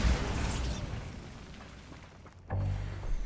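A Bombarda blasting spell in Hogwarts Legacy detonates with a sudden low boom near the end, after a stretch of softer game ambience and whooshing magic.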